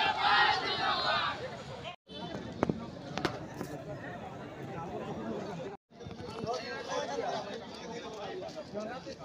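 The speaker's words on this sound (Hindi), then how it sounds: "बहुत ज़्यादा भीड़ लगा यार" A large crowd chatters and murmurs at an election result announcement in Barbil, a dense, continuous outdoor babble with two brief breaks.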